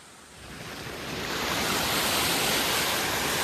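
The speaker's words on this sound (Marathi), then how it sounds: "इकडे हा वॉटरफॉल आहे" A waterfall gives a steady, broad rushing roar. It starts a little softer and swells to a constant loud wash of falling water, with no voices.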